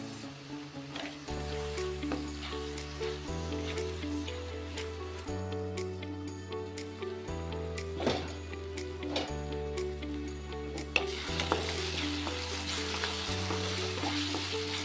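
Spice paste frying with fresh curry leaves for a mutton spinach curry, a continuous close sizzle with regular stirring knocks and scrapes, and a steady hum running underneath throughout.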